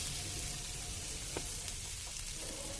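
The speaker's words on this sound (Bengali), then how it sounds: "এগুলোকে আমি খুব ভালোভাবে ভেজে নিচ্ছি ব্রাউন কালার করে।" Green chillies, garlic and onion fry in oil until browned, giving a steady low sizzle throughout with a faint clink of stirring partway through, alone with no talk.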